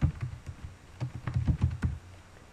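Keys on a computer keyboard clack in a quick irregular run of close, soft taps while text is entered into an Excel spreadsheet.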